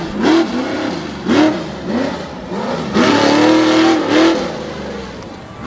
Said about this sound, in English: Scott Martin out of Owego, New York, and Hauling Ass will start things off.